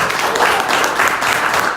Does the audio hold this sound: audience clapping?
yes